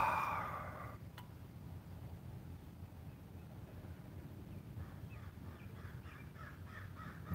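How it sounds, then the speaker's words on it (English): A crow caws repeatedly outdoors on a morning near an old VW bus: a few rough calls in a loose rhythm, moderately distant, over steady low wind-like background noise. "there's a crow out there flying around"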